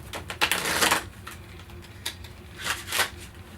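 Cards riffle and snap in two quick bursts close by, a brisk papery fluttering with a short pause between.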